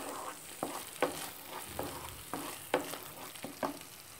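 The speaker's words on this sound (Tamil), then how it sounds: "இதில் கொஞ்சம் லைட்டாக வதக்கிக்கோங்க" Shredded cabbage sautés in ghee in a pan for halwa, a steady close sizzle broken by regular scraping stirs roughly every half second.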